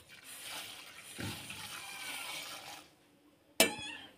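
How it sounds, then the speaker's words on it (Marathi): Urad dal tipped into a pot of hot water gives a soft, steady pouring patter for a few seconds, then a single sharp metallic clank of the pot or utensil. "पाणी पण गरम झाले आणि त्याच्यामध्ये मी डाळ टाकते."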